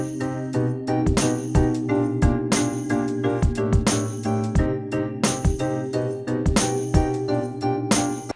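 A bright, tinkling synth sequence from Arturia Analog Lab 4, with repeating plucked notes layered over sustained piano chords, with a flute-like tone poking through at times.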